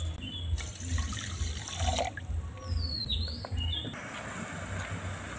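Water is poured onto sugar to make syrup for a semolina sweet, a steady close splashing and trickle lasting a few seconds, with faint chirps in the background.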